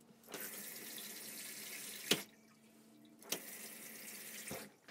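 Water runs steadily from a shower tap in the small bathroom of a Pössl 2Win R camper van, a continuous close hiss with two brief clunks partway through as the flow is handled.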